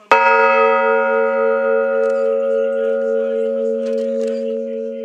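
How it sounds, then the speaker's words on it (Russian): The largest bell of a church under construction in Obukhovka rings once with a deep, clear strike, its rich tone sustaining and slowly fading over several seconds. "Самый большой благовестник издал чистый и долгий звук."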